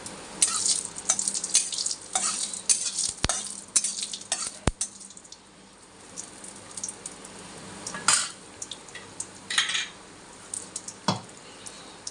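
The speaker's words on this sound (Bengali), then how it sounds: "লঙ্কা, সাদা জিরা ফোড়নে দিলাম।" Chilli and white cumin sizzle in hot oil for a tempering: a steady frying hiss broken by sharp metallic clinks and scraping of a spoon against the pan, with the sizzle swelling at each stir.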